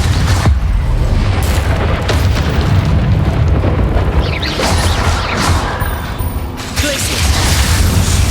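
The Incendio fire spell in Hogwarts Legacy, cast during a room-clearing fight: a continuous loud roaring rumble with crashing bursts lasting several seconds and faint voices underneath.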